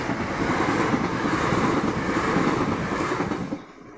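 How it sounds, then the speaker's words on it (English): Train passing at Southbourne station, a loud steady rumbling roar close by that fades and drops away abruptly near the end. "There goes the train."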